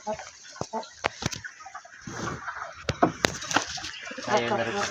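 A labuyo jungle fowl rooster clucks in short, sharp bursts near the microphone, repeated irregularly over a few seconds, with other farmyard birds and rustling in the background.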